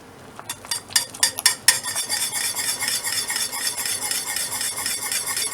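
A thick batter-like mixture with vanilla is worked in a cast iron pan: a burst of sharp clinking scrapes at first, then a steady gritty stirring rasp that continues close and even.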